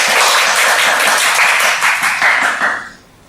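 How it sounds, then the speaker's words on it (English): An audience at a Toastmasters club meeting breaks into applause, a dense burst of clapping that holds steady for a few seconds and then fades out, with no talking over it. "please give them a round of applause"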